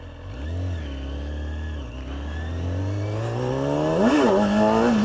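Close and loud, a superbike engine revs up through a rising pitch while it pulls a wheelie, with the clutch slipped, then dips and surges again near the end.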